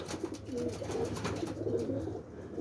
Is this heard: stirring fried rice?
no